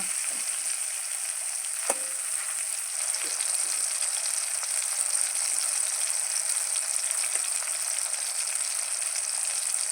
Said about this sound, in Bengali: দিয়ে টমেটোটাকে ভালো করে নেড়ে নেব